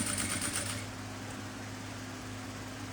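A sewing machine topstitches fabric in a quick rhythmic whir for under a second, then stops, leaving low hum and quiet room tone.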